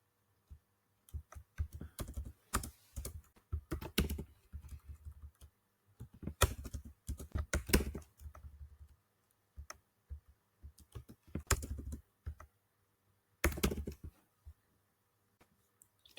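Keystrokes rattle on a computer keyboard during config file editing on an Ubuntu server, coming in quick bursts with short pauses, close and fairly quiet, with no voices.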